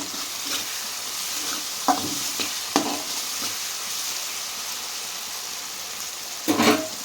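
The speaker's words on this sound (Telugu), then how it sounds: "ఫ్రై అవ్వాలండి కొంచెం వేగాలి" Masala and ingredients for a cluster bean (guar) biryani crackle and sizzle steadily in a pan, with a few sharper stirring scrapes and spatula knocks breaking through the even frying hiss.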